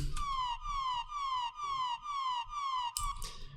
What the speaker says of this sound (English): like this siren